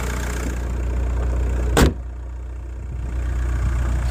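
A 1.9 litre TDI diesel car engine idles steadily with a low, even rumble, briefly interrupted by one short loud broadband burst near the middle before settling back.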